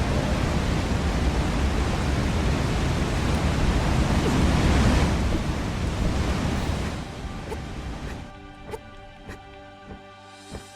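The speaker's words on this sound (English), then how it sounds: "Waterfalls are so loud." A loud, rushing waterfall roars in the game Vigil, broad steady white-noise wash that drops sharply partway through, leaving fainter water hiss with scattered clicks and tones.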